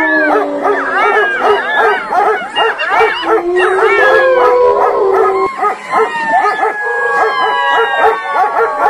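A chorus of jackals howls and yips together, several overlapping wavering cries rising and falling close by for the whole stretch, with no talk in between.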